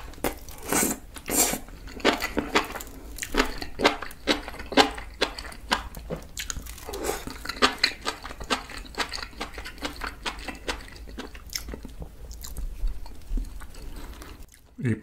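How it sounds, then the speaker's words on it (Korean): Close-up chewing of spicy mushrooms during a mukbang, with repeated wet bites and crunchy mastication in an irregular rhythm, loud and near, with no talking. "이 버섯도 오늘 처음 먹어."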